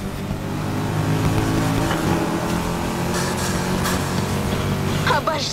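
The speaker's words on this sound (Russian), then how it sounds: "Обожаю звук этого движка." A car engine idles and revs in a Need for Speed Heat cutscene, a steady mechanical drone with rising pitch, heard under people talking.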